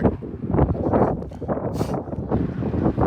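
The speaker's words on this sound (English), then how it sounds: "I'm sorry it's so windy, y'all." Strong outdoor wind buffets the microphone in heavy, uneven rumbling gusts that fill the low end, loud and close throughout.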